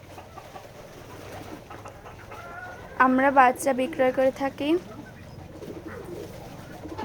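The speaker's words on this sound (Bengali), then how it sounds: "এটা আমাদের ফার্ম হাউস কবুতরের খামার।" Pigeons at a pigeon farm in Keshabpur, Jessore, coo in a brief burst of soft, rising calls that stand out over a quiet background. Someone speaks nearby.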